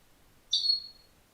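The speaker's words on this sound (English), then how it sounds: "if you guys just heard a loud noise, that's Zuko. Zuko, the African gray parrot" An African grey parrot gives a single shrill, whistled call lasting about half a second, loud and clear against an otherwise quiet indoor room.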